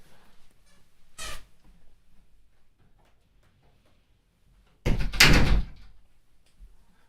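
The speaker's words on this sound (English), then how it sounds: "I'm going to close the door" A door closes indoors: a brief soft knock, then a louder slam with a rattling latch a few seconds later, in an otherwise quiet room.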